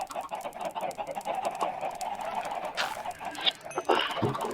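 Chickens in the game Minecraft cluck in short, repeated bursts at moderate distance, with a few sharper calls and game sounds scattered over a quiet background and no speech.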